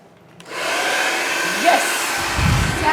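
A hair dryer switches on and blows with a steady whirring hiss, a faint squeak and a low rumble mixed in near the end.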